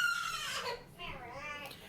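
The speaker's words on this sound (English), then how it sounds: "my children are screaming and crying as I'm trying to film this vlog" Young children screaming and crying at close range, high squealing wails rising and breaking off with brief pauses between outbursts.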